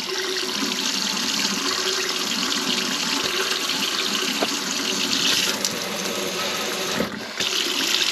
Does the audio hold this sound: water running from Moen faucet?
yes